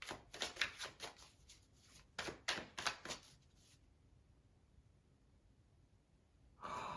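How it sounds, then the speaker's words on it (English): Several quick bursts of tarot cards being riffled and shuffled, close up, in two rapid groups, followed by near silence and a final brief rustle. "So I'm going to shuffle more here because I want to see."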